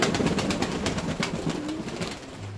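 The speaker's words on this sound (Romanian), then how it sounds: "toți porumbeii tot se înghesuiesc să facă baie." Fancy pigeons crowding together to bathe in an aviary, cooing and calling continuously up close with splashing and fluttering mixed in, a steady dense chorus throughout.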